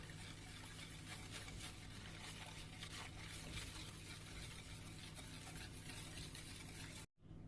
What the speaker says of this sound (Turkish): Sonra bunları güzelce bir çırpıyoruz.